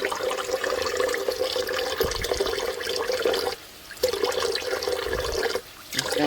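Greasy rinse water from canning hamburger meat is poured into a kitchen sink in two long, loud gushing bursts separated by a brief pause.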